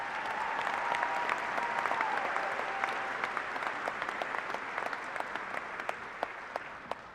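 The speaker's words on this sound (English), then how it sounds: "Another big round of applause for our doctors." Sustained audience applause at a university fall commencement ceremony, honoring graduating doctors; steady, dense clapping from a large crowd throughout, with a faint voice briefly audible early on.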